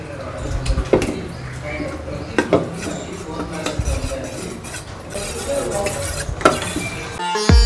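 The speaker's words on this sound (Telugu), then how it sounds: "ఫాస్ట్గా తిప్పుకోవాలి." Custard being stirred quickly in a pot on the stove, a spoon scraping and clinking against the metal in a steady busy rhythm, with faint sizzling beneath and a voice talking over it.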